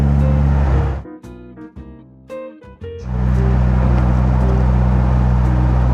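A Triumph TR2 engine pulls from low revs in overdrive, a deep steady drone that dips and sputters briefly mid-clip before swelling back into a loud, sustained rumble.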